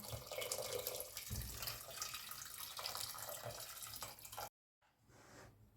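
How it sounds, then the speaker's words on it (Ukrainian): Boiled water poured from above into a pot of cheese soup makes a steady splashing gush for about four seconds, then stops briefly before a quieter trickle follows; no one speaks. "Заливаю тепер все кип'яченою водичкою."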